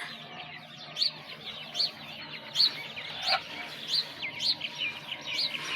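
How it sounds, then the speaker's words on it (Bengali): Chickens pecking at rice grains, giving off soft repeated clucks and chirpy calls at an uneven rhythm over a quiet background, close by and fairly faint. "দেখছো আপা কেমনে চাল খাওয়াইতেছে মুরগিরে"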